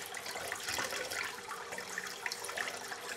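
Tap water runs steadily over soil balls from a potted plant, a soft continuous splashing and trickling heard alone at low volume.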